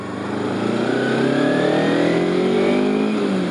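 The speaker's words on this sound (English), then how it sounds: "Guy just drove straight across the roundabout." A car drives straight across a mini roundabout on a road trip, its engine humming steadily and rising slightly in pitch as it passes nearby, a continuous close drone with no voices.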